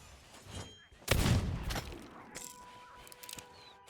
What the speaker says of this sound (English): does this pistol shoot low? Oh, this pistol shoots low, shoots high